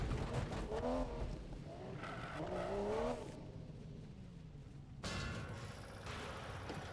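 A car in Need for Speed (2015) drives with engine revving and tires squealing, then slows and pulls in to park at a gas station, with sound cut back to a faint hum midway before it returns.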